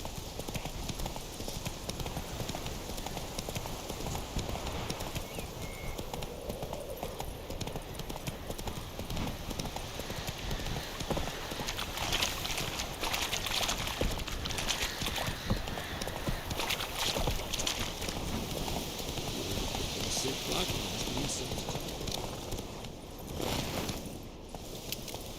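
The horse Roach galloping in the video game The Witcher 3: Wild Hunt, rapid continuous rhythmic hoofbeats close up over a steady wash of ambient noise.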